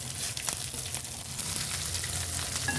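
Dried red chillies, cinnamon, cloves, curry leaves and mint frying in a pan, a steady loud sizzle and crackle throughout with occasional stirring scrapes, no voices.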